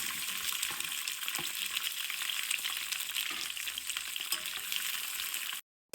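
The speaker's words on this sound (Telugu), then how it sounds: "ఇది ఇలా ఫ్రై అవ్వాలి ముక్కలు" Pieces of ivy gourd (tindora) fry in hot oil, giving a steady, dense crackling sizzle up close with scattered sharper pops and a brief cut to silence near the end.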